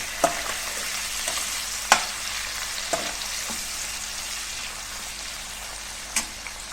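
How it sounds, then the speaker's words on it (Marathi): Tomatoes sizzle steadily in a pan while sautéing for veg pulao, a continuous close frying hiss with a few sharp spoon taps and stirring clicks scattered through. "तर ह्याच्यामध्ये आपण टामॅटो टाकूया टामॅटो चांगला परतून घेऊया"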